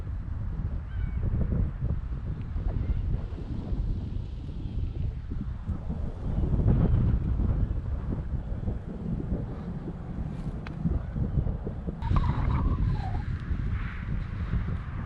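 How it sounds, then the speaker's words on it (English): Steady wind rushes and buffets the microphone in high gusts during a hike in Red Wing, Minnesota, with a low rumble underneath and faint bird calls near the end. "Right now the wind is gusting."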